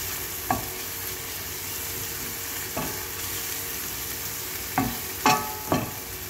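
Garlic frying in a pan, a steady low sizzle running throughout with a few sharp clicks and scrapes of stirring, spaced irregularly and louder near the end; no voices.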